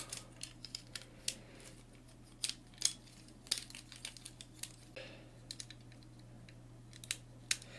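Plastic Tobot transforming toy figure being manipulated as its legs are folded into position, giving small irregular clicks and snaps close up over quiet background hum.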